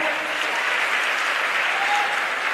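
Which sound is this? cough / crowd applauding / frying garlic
crowd applauding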